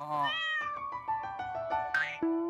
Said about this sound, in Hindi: वो बिल्ली की आवाज क्यों निकाल रहा है?